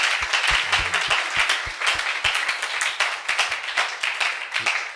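A church congregation applauds during a worship service, steady, dense clapping from many hands that runs evenly the whole time and stays fairly close and lively.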